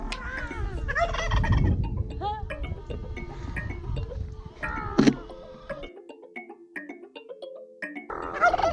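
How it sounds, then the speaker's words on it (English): Poultry gobble and cluck close by in a rapid chattering flurry, joined by clinking metallic taps, with a person speaking briefly. "And here is another chicken, call it Sana."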